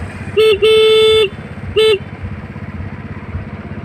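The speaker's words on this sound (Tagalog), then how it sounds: "Businahan natin." A vehicle horn honks three times on a road trip, a short toot, a long blast and another short toot, loud and close over a steady low rumble of road and engine noise.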